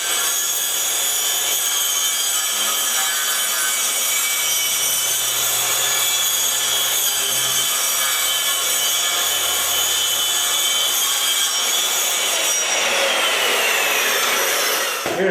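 A hand saw rips straight across a board to cut a homemade saw guide, a continuous loud rasping stroke that runs steadily for most of the time before stopping near the end, with no talking.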